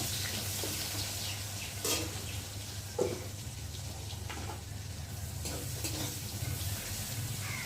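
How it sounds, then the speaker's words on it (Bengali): Chopped onions sizzle steadily in a hot pan for a rui fish dish, with a few sharp scrapes of a spatula stirring them at close range. "পেঁয়াজটা একটু ভালো করে লাল করে ভেজে নেব।"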